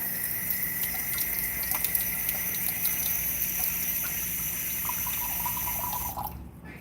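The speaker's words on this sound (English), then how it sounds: "I'm going to add water to this." Tap water pours into a bowl of sourdough Italian whole-wheat bread ingredients, a steady close gushing stream that stops abruptly near the end, with no talk.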